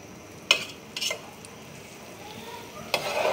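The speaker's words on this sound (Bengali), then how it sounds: "ভালো করে নেড়ে চেড়ে দিয়ে টকবক করে যখন ফুটতে শুরু করবে" A spoon stirs the traditional Barishal bishki mixture in a pot, giving a few sharp scrapes and knocks against the metal over a faint sizzling background, then a louder stir near the end, with no speech.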